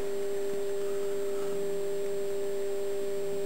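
A Bedini stepper motor circuit running as a continuous, steady electronic whine, even in loudness and unbroken throughout, alone with no talk.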